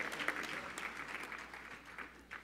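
Crowd applause at a Martin Luther King Jr. Community Leaders Celebration honoring public school principals, a soft, even wash of many hands clapping at a distance, steady throughout with a slight swell near the end.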